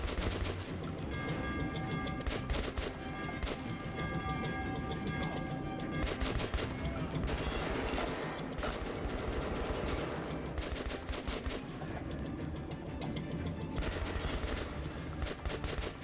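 Video game gunfire rattles continuously in dense, loud bursts of automatic fire and scattered shots, filling the whole stretch with little pause.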